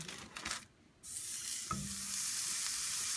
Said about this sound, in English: We'll get this burger on. Pan's ready.